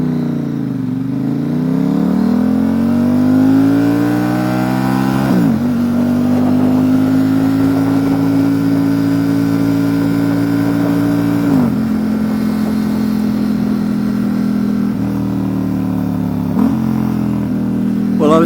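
A 2019 Ducati Diavel 1260 S motorcycle with a Termignoni exhaust accelerates hard through several quick-shifter upshifts, its loud engine note climbing in pitch and dropping briefly at each gear change, with no talking.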